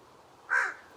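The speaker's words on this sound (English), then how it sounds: "there was a lot of noise from crows cawing" A single crow caws once from a tree in an outdoor garden, a clear mid-distance call standing out over quiet background.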